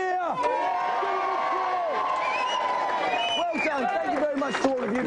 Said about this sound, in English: Let everyone give you a big cheer.